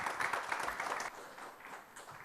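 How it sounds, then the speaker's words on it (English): Audience applause for the panelists at the close of a panel discussion session, a dense, steady wash of clapping from a crowd that fades slightly toward the end, with no talk over it. "A big round of applause for our panelists."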